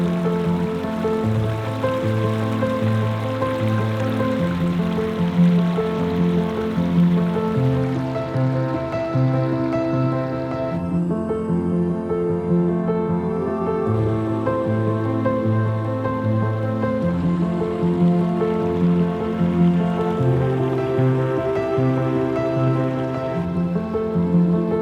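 Water from a backyard pond's water feature splashes and trickles steadily and close, a constant gentle rush with no talk.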